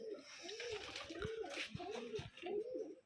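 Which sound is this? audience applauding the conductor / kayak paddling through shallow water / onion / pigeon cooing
pigeon cooing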